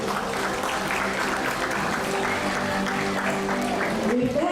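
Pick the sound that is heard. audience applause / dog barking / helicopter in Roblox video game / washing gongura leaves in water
audience applause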